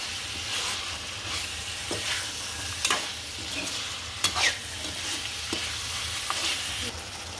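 Duck meat being stir-fried in a pan for a duck and pumpkin dish, a steady close sizzle of hot oil with intermittent scrapes and clinks of a spatula stirring the pieces, no talking.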